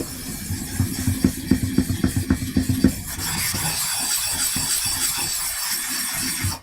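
A knife blade has its back rubbed on a medium whetstone, first in quick rhythmic scraping strokes, about a dozen close raspy pulses, then settling into a steady continuous grinding hiss.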